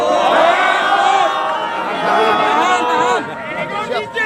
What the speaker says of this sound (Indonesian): Tepuk tangan untuk PBB.